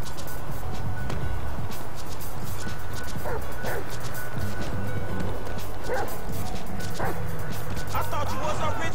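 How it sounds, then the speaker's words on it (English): Dog barking in the video game GTA 5, a few sharp barks scattered across the scene over a steady low rumble of game ambience, with a voice speaking now and then. "I don't want to hurt you, and you don't want to get hurt, dog, so be still."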